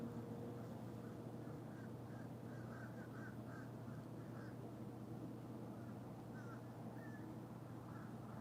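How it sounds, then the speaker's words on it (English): Crows calling outside, a flock giving repeated harsh caws at scattered intervals over a steady low rumble of background noise, fairly distant and faint. "It looks like a fucking attack of the crows outside."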